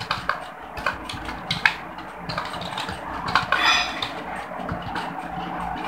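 Someone types on a computer keyboard in irregular bursts of clicky keystrokes, close and moderately loud, with brief pauses between runs.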